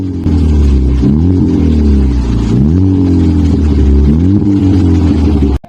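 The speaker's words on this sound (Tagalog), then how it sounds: "Hyundai Accent U, ito ang sound check ng HKS Muffler." A Hyundai Accent fitted with an HKS muffler revs repeatedly, the loud deep exhaust note rising and falling in several blips before cutting off abruptly.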